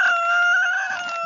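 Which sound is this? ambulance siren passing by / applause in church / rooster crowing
rooster crowing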